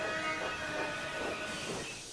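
Steam locomotive in a children's train show, hissing steadily as it brakes to a stop, a broad close wash of steam and rail noise with no talk.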